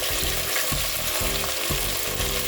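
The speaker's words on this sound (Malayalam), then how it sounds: "2 തക്കാളി, 2 മുരിങ്ങയ്ക്കായ, 2 പച്ചമുളക് എന്നിവ ചേർത്ത് വഴറ്റിയെടുക്കുക" Tomatoes, drumsticks and green chillies sautéing in coconut oil for a Kerala curry give a steady, close sizzle. Periodic stirring scrapes mark a loose rhythm roughly every half second. No one speaks.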